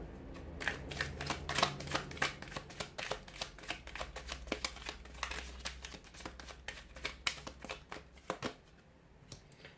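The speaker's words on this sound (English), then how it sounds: "give the cards a shuffle" Rapid riffling and snapping of tarot cards being shuffled, dozens of crisp flicks in quick uneven bursts, close and fairly quiet, ending in a softer tail.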